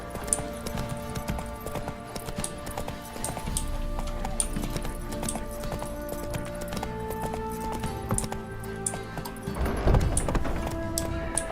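Roach the horse in The Witcher 3 gallops with steady, rhythmic hoof clip-clops over a low game soundtrack, with a brief heavier thud near the end.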